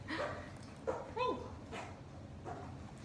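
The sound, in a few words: dog barking and whimpering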